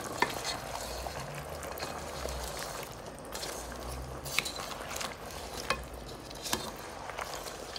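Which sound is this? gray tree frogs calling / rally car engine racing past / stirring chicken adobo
stirring chicken adobo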